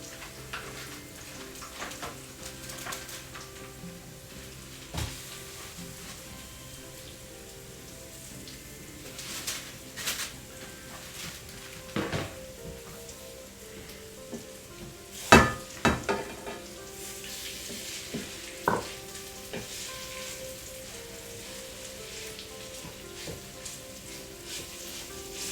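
Plant-based, meat-free mince frying in a pan for Thai pad krapow, a steady broadband sizzle with occasional louder crackles and pops, no talking.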